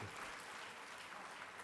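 Steady, fairly faint applause from an audience at a 'Hasya Mev Jayate' comedy event and souvenir release, a dense even patter of many hands clapping throughout with no clear voices.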